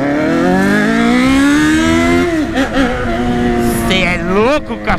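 A Yamaha XJ motorcycle engine revs close by with a steady droning note that climbs in pitch, dips into a few throttle blips, then surges upward again near the end.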